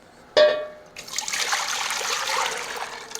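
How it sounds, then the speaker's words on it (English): Pureed tomato sauce being poured from a container back into a Dutch oven for a tomato cream basil soup, a soft, continuous liquid splashing and gurgling after a short knock, fairly close and steady. "we're going to pour it back in the Dutch oven and add the cream to make a cream soup"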